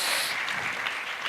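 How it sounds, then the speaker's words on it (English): A short burst of audience applause at a JavaScript music conference, a dense wash of many hands clapping under no talk, steady and moderately loud. "That was well-timed applause"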